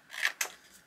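Scissors snip out small photos for a journal: two short, crisp cuts close by in a quiet room, the second sharper than the first.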